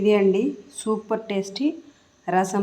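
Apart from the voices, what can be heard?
No distinct noise like a dog, phone or traffic.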